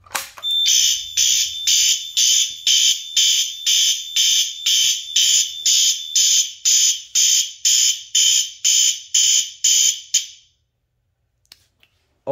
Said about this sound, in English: these sounder bases are on march time